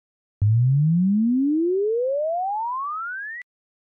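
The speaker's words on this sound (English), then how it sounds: "Now, if we make the sweep with the frequencies increasing exponentially," A clean electronic tone rises smoothly and evenly in an exponential sweep from 100 Hz to 2000 Hz over about three seconds, then stops suddenly.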